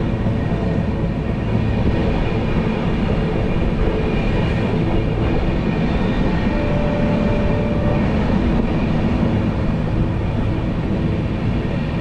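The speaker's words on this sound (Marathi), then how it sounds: "ती आहे आपली महाराष्ट्र एक्सप्रेस" Maharashtra Express passenger train passing close by at a station near Daund, a loud, continuous rumbling roar of wheels and carriages that holds steady throughout with no talking.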